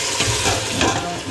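Tomato sauce for a gombo (okra) stew simmers in a pot, giving a steady, dense bubbling sizzle with a few soft stirring swells, close and continuous with no talk.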